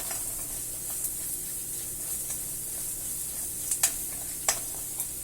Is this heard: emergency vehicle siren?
no